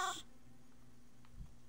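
Short Minecraft cat meow, a bright burst at the very start, followed by low quiet game ambience with a faint soft thump near the end.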